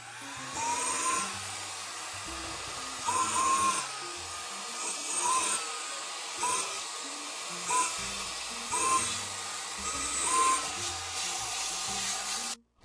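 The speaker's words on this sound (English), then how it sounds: "I have a vacuum cleaner of the small ones with the nozzle to go and remove the coffee residue" A small handheld vacuum cleaner with a nozzle sucks up coffee residue, making a steady whining hum that surges and dips repeatedly, with no talking.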